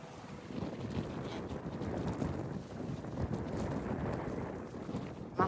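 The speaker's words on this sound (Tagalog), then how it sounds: "Mahangin, diba?" Steady outdoor wind buffets the microphone in a continuous, rushing roar that lasts throughout, with a brief knock right at the end.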